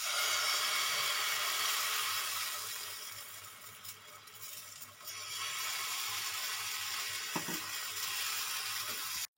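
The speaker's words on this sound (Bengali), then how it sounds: "একটু লাল লাল করে ভেজে নিলাম।" Semolina paratha frying in a pan, giving a steady broadband sizzle that dips briefly in the middle before resuming, close and fairly loud with a couple of faint clinks and no talk, ending abruptly.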